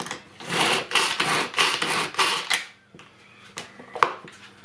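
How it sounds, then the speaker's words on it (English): Tupperware pull-cord manual chopper dicing onion on a kitchen bench: a quick series of close, whirring rattling bursts as the cord is pulled repeatedly, then a few quieter shakes and a sharp click. "one hand pushing down, and we just pull the cord. Give it a bit of a shake."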